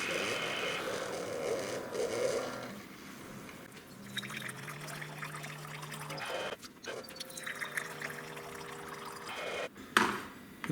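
A Keurig coffee machine dispenses a half-vinegar, half-water descaling solution, a soft pouring trickle with intermittent dribbles and quiet machine hums, fairly faint and without speech.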